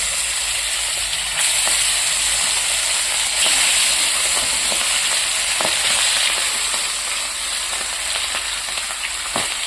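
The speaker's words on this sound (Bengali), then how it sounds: "মাছ তো চটাস চটাস করে ছুটতে হয়ে তো বন্ধুরা মাছটা অনেক কষ্ট করে ভেজেছি" Pieces of fish fry in hot oil in a pan with a loud, steady sizzle broken by sharp crackling spatters throughout.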